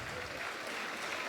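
Brief burst of audience clapping at a Tamil motivational speech, a steady wash of hand claps at moderate level with no voice over it.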